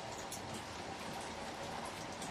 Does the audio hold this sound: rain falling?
yes